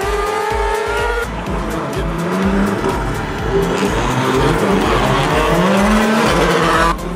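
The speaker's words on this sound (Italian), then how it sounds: "Il secondo appuntamento dell'Ice Challenge 2019 entra nel vivo con le prime batterie di qualifica, dove, come previsto, sale in cattedra Gigi" Rally cars race on an icy track at the 2019 Ice Challenge in Pragelato, engines revving hard with long tire squeals and skids. The cars sound close and loud, and the noise carries on steadily throughout.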